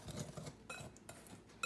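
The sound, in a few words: whisking peach cobbler batter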